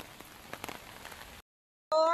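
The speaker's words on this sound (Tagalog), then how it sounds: "Ang lakas ng ulan." Steady hiss of rain pattering on a surface, fairly faint, cutting to silence before a brief loud tonal burst at the end.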